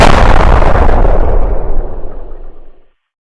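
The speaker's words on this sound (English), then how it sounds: "all of the maroon balls are bombs, which I can tell because they will explode" A cartoon bomb ball explodes in an animated game: a loud, full-bodied blast that rumbles on for nearly three seconds and then fades out, with no talk over it.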